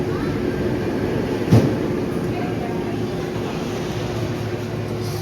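A roller coaster train at Six Flags Over Texas rushes past, a broad rumbling roar with a sharp whoosh peaking briefly near the middle, heard amid crowd noise and nearby talking.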